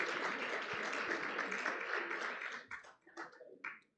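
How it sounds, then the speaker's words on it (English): Applause from a fintech conference audience, steady broad clapping that breaks up into scattered final claps before stopping. "Can we welcome Catherine with a big round of applause?"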